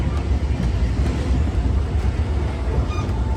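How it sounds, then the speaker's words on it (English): A Disneyland mining-themed train ride rumbles along, a loud steady low-frequency roar and rattle of wheels on track with faint metallic squeals, continuous throughout. "Nothing like a train ride."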